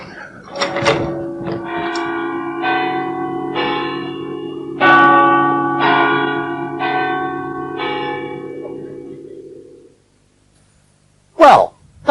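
Church bells peal in a rolling, overlapping sequence of strikes for about ten seconds, loud and fairly near, with each chime ringing on and decaying before falling silent, then a brief sharp noise near the end.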